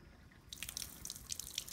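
Water dripping and trickling from holes in a cup once fingers are lifted away, a quiet cluster of small patters and splashes after a brief silent start, close and alone.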